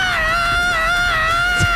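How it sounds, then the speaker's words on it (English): A thin, wavering high-pitched scream from a character in The Hundred Line: Last Defense Academy, held steadily for almost two seconds with a faint echo over a low rumbling background. "a pathetic scream echoed throughout the labyrinth"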